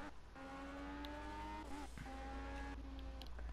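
Race car engine in the Project CARS racing game, revving in a steady whine that rises, dips briefly, then climbs again, loud and close, with no voices.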